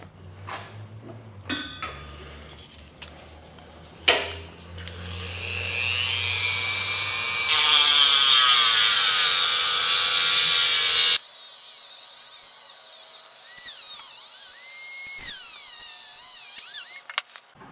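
A power tool cutting through fiberglass on a yellow F-16 model build, a loud whining grind that starts in bursts, runs steadily, then shifts pitch and fades to lighter scraping; no talk.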